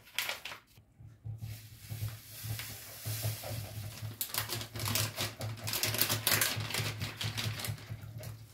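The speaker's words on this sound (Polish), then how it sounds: "Mieszamy do rozpuszczenia się żelatyny" Lemon jelly mix dissolving in water is stirred steadily with a spoon, giving a soft continuous scraping and clinking with rhythmic swishes, moderately close and fairly quiet.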